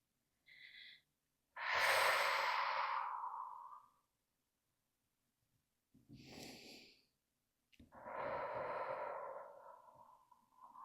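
Slow, audible breathing during a yoga forward fold, heard as several long, airy inhales and exhales close to the microphone, separated by silent pauses, with no talking.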